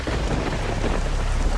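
Steady rain pours with a low thunder rumble in a dubbed South Indian film scene, a dense continuous wash of noise with no voices.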